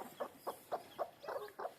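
A country hen clucks softly beside a newly hatched chick, giving six short clucks at an even, unhurried rhythm, quiet and close with nothing else heard.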